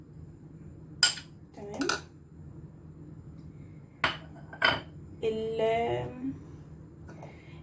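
A metal spoon clinks and taps against a container while ground ginger is measured, with several sharp, close clinks spread over the clip and a short spoken word partway through.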